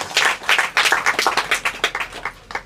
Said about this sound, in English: Give my colleagues a round of applause, please.